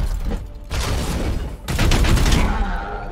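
Rapid bursts of video game gunfire in Warhammer 40,000: Chaos Gate – Daemonhunters crackle in quick succession, loud and close, with a brief gap before another dense volley.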